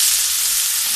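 Garlic and ginger sauté in very hot oil in a pan, giving a steady, close, dense sizzle with no pauses.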